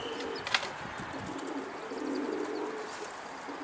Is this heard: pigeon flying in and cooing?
yes